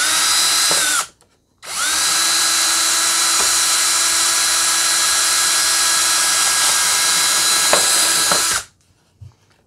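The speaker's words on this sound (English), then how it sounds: "I'm going to drill with my 6mm drill bit into there" A power drill with a 6mm bit bores a hole for an M6 bolt into a wooden drawer front, a loud steady whine that runs briefly, pauses about half a second, then drills continuously for about seven seconds before stopping, with no voices.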